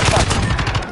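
Rapid video-game gunfire rattles in a dense burst for about a second, loud and close, with a brief high tone partway through.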